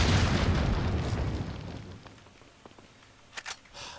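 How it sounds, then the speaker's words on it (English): A grenade goes off in the video game Resident Evil 4 with a loud, close boom, and its rumbling roar fades over about two seconds, leaving quiet followed by a few small sharp pops. "Who knew the fucking grenades would come in clutch again?"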